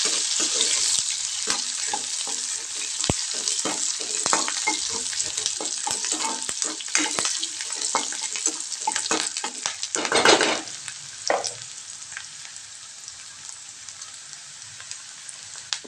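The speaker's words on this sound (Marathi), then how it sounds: "आता कांदा पण लालसर करून घ्यायचा आहे आपल्याला" Onion fries in a pan until reddish with a constant close sizzle, broken by frequent clicking scrapes of a spoon stirring against the pan, a burst of louder spattering partway through, and no voices.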